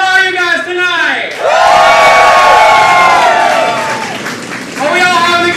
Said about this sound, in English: that cheering in the background is not for this rock that's being thrown